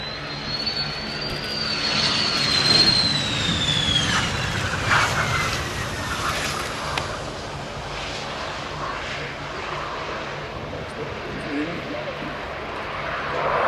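A damaged USAF F-16 Viper with flight control issues rumbles in on an emergency landing approach at an air show, its jet engine a loud, steady roar with a rising whine that slowly fades as it passes, while people talk nearby.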